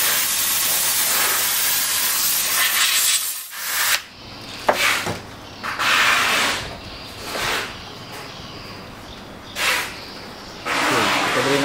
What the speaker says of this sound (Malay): Kuat wap dia kuat.